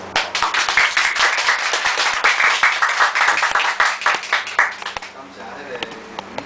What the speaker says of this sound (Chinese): 咱还是先掌声来迎接啊